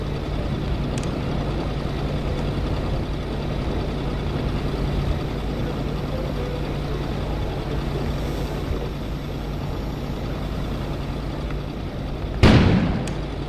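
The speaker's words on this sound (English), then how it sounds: "An explosion suddenly occurred outside." A sudden outdoor explosion in the video game Kona strikes as a single loud, sharp blast after a long stretch of steady low rumble, with a brief decaying tail.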